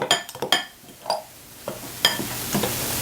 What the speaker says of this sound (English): Take my butter knife and let's just cut it up.